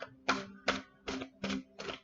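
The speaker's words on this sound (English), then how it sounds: "Sorry about the loud shuffling." Tarot cards shuffled in five evenly spaced, rapid riffles, each a short crisp burst of flicking card edges, close and fairly quiet.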